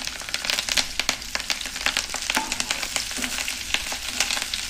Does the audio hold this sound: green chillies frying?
yes